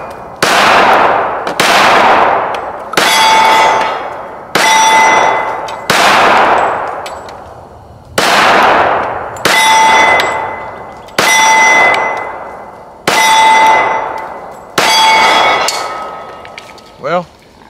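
A CZ P-10F .45 ACP pistol fires a magazine at an outdoor range: about ten loud, sharp, evenly spaced shots, each decaying into echo before the next.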